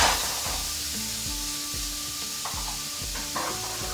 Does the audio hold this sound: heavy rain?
no